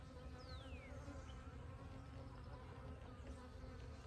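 A clustered honeybee swarm being gently captured from frames hums as a steady dense buzz throughout, with individual bees zipping close past the microphone.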